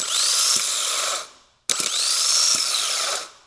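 A worn Suzuki XL7 starter motor with bad bearings or bushings spins on a bench test in two loud, rough whirring bursts, each winding up and cutting off with a brief pause between.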